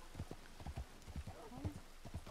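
Steady clip-clop of horse hooves in a video game, trotting at an even pace, fairly close, with a brief whinny-like tone midway.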